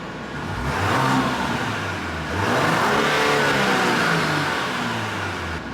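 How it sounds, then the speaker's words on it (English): A 2023 Genesis GV70 3.5T engine revs twice in comfort mode, its exhaust rising to a deep, smooth roar and settling back, steady and moderately loud with no talking. "now for the exhaust test. This is comfort mode."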